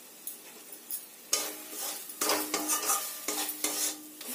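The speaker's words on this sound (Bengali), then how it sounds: "দিয়ে ভালো করে কষিয়ে নিতে হবে" Spices with coriander powder are sautéed for egg curry, with a spoon scraping and stirring through a pan in short bursts over a soft sizzle, close and fairly loud, no voices.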